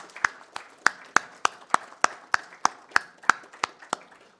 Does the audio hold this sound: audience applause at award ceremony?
yes